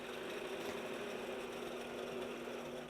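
A sewing machine quilts wavy lines with rulerwork across an Ultraviolet quilt, humming with a steady, continuous mechanical drone close by, no pauses or voices.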